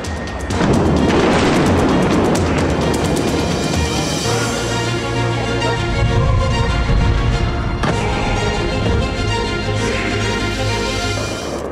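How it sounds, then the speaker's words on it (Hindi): Explosions from Israeli airstrikes on Tehran at night, a continuous rumble of heavy booms and blasts, loud and dense, with a sharp burst near the middle and a sustained low roar under it. "सायरन की गूंजती आवाज के बीच आसमान धमाकों से दहलता नजर"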